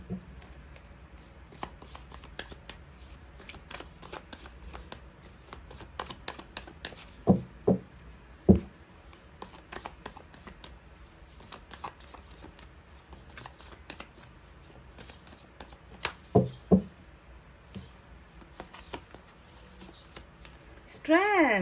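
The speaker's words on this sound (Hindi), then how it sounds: "चार कार्ड्स और इस डेक से निकालेंगे गाइस" Tarot cards are shuffled and drawn from a deck in a quiet room, giving soft scattered riffles and sharp flicks in short bursts, with a few louder snaps midway and a brief chime near the end.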